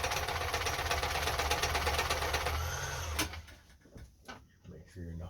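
A Kenmore 10 Stitch sewing machine stitching at a fast, steady mechanical whir for about three seconds, then slowing and stopping, leaving faint handling clicks and rustles.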